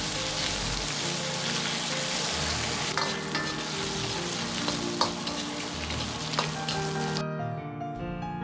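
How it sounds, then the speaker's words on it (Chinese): Pork chunks stir-fry over medium heat in a wok with a little oil and star anise. A dense, steady sizzle with scraping stirs and small clicks runs throughout, then thins to a quieter hiss just before the end. "接着下入切好的肉块，保持中火炒出肉里的多余的水分，炒出香味"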